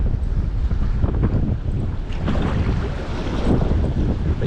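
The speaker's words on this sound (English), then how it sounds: "it's very difficult conditions with all that wind" Strong wind at a beach during lure fishing, buffeting the microphone in a continuous loud rumbling roar with gusty surges and no talk.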